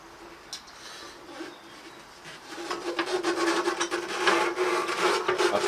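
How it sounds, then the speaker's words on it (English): A buffing disc with McGuire's Ultimate Polish works a split rear mudguard on a 2011 Harley FXDC, giving a close, rough rubbing whir that grows louder and more insistent partway through. "Now for that I will use McGuire's Ultimate Polish with a buffing disc."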